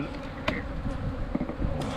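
Honey bees buzz thickly in an opened hive being checked before almond season, a dense, continuous drone close by, with occasional small knocks and clicks.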